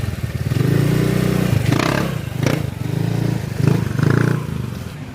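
A Honda Click scooter converted from a 125 to a 150 engine, running close by with a throaty idle broken by several quick revving bursts over a few seconds.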